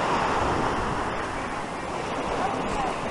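Sea waves wash onto a wide pebble beach in Abkhazia, a continuous close surf roar mixed with wind noise against the microphone.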